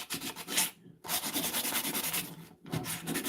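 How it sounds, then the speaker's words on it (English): Sandpaper rubbing steadily over a painted figure to smooth its nose, a close, continuous abrasive scratching in quick back-and-forth strokes with two short pauses. "Sand down his nose, make it nice and smooth."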